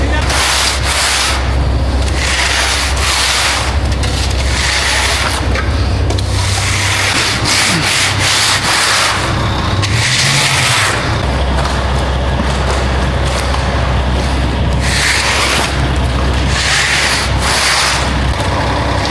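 A shovel scrapes concrete along a form, steady rough rasping and rubbing strokes repeating close by with an engine droning underneath.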